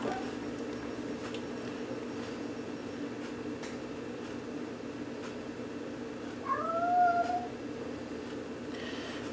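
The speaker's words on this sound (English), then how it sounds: "There's a cat meowing." A cat gives a short, rising meow in the middle of the recording. It is faint to moderate against a quiet background hum, and a couple of light knocks can be heard elsewhere.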